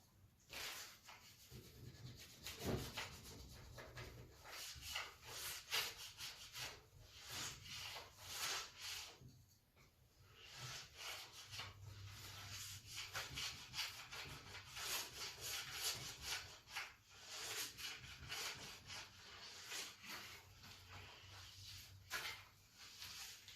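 A plexi scraper pulls glide wax off a cross-country ski in steady, repeated scraping strokes, a soft rasping rub that keeps going without a break. Close and fairly quiet, with no voices.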